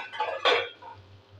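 A metal lid set down on a pan of capsicum frying in oil, giving a short clatter and clink of metal over a faint low hiss.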